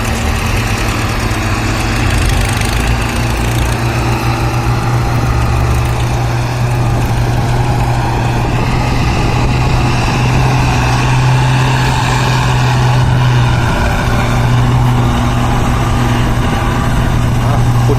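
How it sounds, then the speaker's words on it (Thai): A tractor engine idles steadily with a deep, low rumble throughout, loud and continuous with no breaks. "รถไถหลบก่อน"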